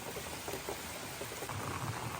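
Heavy rain pours down around a small camper trailer under tree cover, a loud, dense, continuous wash with a low rumble underneath that may be thunder.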